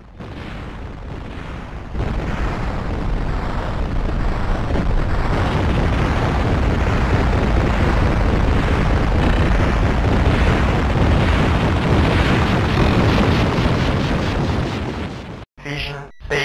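A planet being destroyed in the video game Captain Blood rumbles with a long, loud, continuous roar of blasts, then ends in a few sharp bursts and drop-outs.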